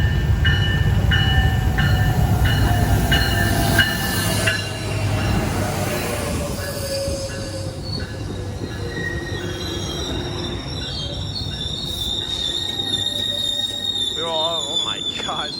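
Passenger train rolling past in San Clemente, with loud, sustained wheel squeal and steady rail rumble throughout, close to the listener, with brief speech in the background.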